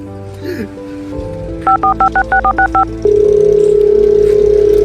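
A telephone is dialed with a quick run of about nine evenly spaced keypad tones, followed by a steady ringing tone, set among background sounds in a Gujarati comedy sketch.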